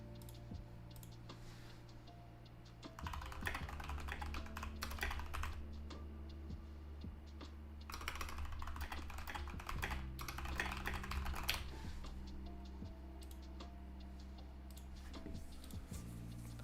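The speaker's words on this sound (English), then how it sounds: "apologies if I'm like typing very aggressively here." Aggressive typing on a computer keyboard, a steady, dense stream of close clicks and clacks under a constant low hum, with bursts of faster keystrokes and no talk.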